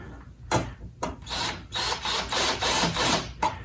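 Ratcheting, grinding turns of a small screw driven into an insert on a Tempo AVSFSS, close and moderately loud in several short, repeated twists with brief pauses.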